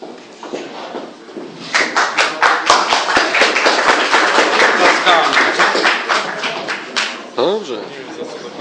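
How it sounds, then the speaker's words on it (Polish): Council members clapping during a municipal council session, a dense patter of many hands in a room that continues for several seconds, with people talking over and around it. "Niech opinia publiczna widzi, kto klaszcze."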